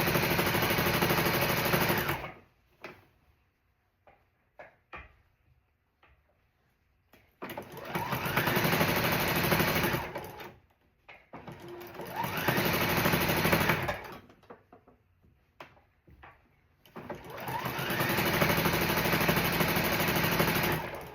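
A foot-pedal sewing machine with no speed control runs seams on a rag quilt, whirring loud and close in four long bursts with brief silent gaps and small clicks between them.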